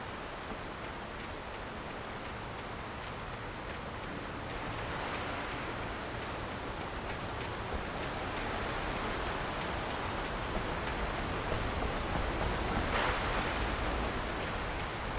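Steady broadband rush of river water in Alan Wake, a dark night setting, flowing continuously at moderate level with no voices.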